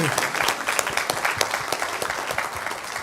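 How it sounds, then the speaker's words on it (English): An audience at the close of a memorial lecture on civilian oversight of law enforcement claps in a dense, sustained round of applause that fills the room evenly. "You can clap yourselves now, we're at the end."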